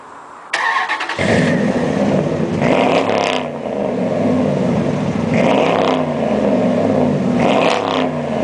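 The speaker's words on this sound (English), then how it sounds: "Now I'm gonna let you hear my" Dodge Ram truck on 24-inch wheels with Flowmaster exhaust starts up, then revs loudly in several rising and falling pulls over a deep, steady rumble, close by with no talking.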